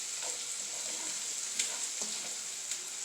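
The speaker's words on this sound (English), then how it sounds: "So I'm browning my onions in here" Onions for enchiladas brown in a pan with a steady, bright frying sizzle, close and even, broken by a few small pops.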